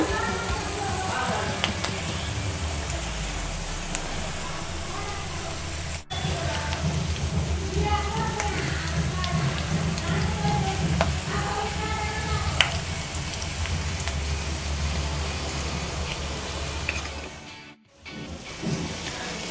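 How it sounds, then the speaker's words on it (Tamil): Ragi cutlets frying in a pan over a low flame, giving a continuous dense crackling sizzle that stays steady and close, with one brief break near the end. "ஒரு லோ ஃப்ளேம்லேயே நம்ம ஒரு சைடு வந்து ஒரு 2 மினிட்ஸ் குக் பண்ணலாம்"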